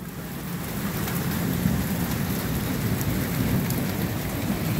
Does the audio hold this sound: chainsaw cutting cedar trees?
no